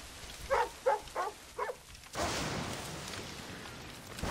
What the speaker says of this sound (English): the rain seems to be moving like around the character